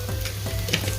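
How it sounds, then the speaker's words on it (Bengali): Sugar stirred into poha seasoning frying in a pan with turmeric, giving a soft steady sizzle with a few light scraping strokes of a spoon, close and fairly quiet, with no voices. "চিনিটা দিয়ে এখন এটা আমি নেড়ে দিলাম ভালো করে"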